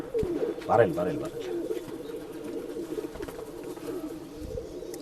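Pigeons at a Bangalore pigeon sale coo in low, rolling calls, with one louder burst early on, while people talk nearby throughout.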